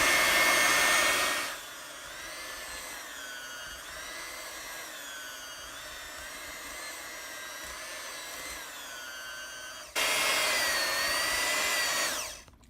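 An electric hand mixer beats flax seed cookie dough: a steady high motor whine that drops in pitch as it loads up in the middle, then rises again near the end before cutting off.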